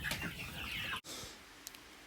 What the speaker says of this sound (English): And here we have him kissing a chicken.